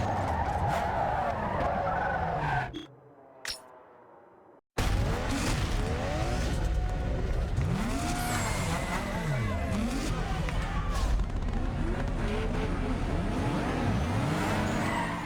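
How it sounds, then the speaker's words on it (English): A Toyota Corolla in NFS Underground spinning donuts at the start line, tires screeching in repeated sweeping arcs over a revving engine. A brief near-silent gap interrupts it early, and a voice talks over parts of it. "I'm over here reversing my car and doing donuts at the start line"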